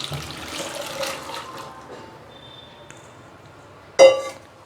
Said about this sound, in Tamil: இப்போ இது இந்த தண்ணியோடவே நான் முழுசாக உள்ளே சேர்த்துட்றேன்.